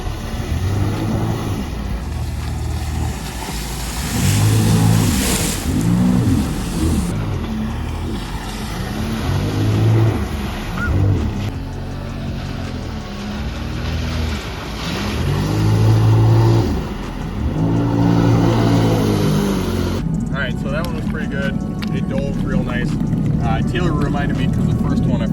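A 2024 second-generation Sea-Doo Spark Trixx jet ski engine revving and dropping in repeated surges as it performs nose dives on the water, loud and close throughout.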